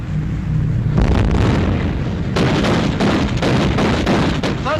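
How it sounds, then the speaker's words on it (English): A warship's naval guns open fire in a string of heavy, loud booms, several close together with rumbling between them. No voices carry over the barrage. "Open fire! Shoot!"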